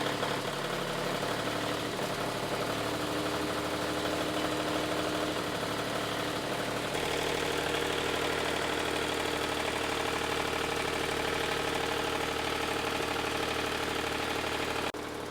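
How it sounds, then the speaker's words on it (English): A diesel generator on a boat runs steadily and close by with a rough, uneven knocking idle from air in the fuel lines, shifting slightly in tone partway through, without any talking. "Engine runs a little bit rough here."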